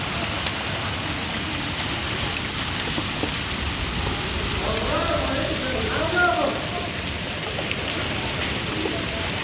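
Steady rain falls across a natural landscape in Al Mahwit, Yemen, a dense even hiss of drops on surfaces, with faint voices in the background.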